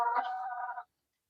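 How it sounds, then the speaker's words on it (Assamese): A single short, faint cluck from a local backyard chicken on a small farm, lasting under a second with nothing else around it. "মোৰ এইখিনিয়ে মুৰ্গী।"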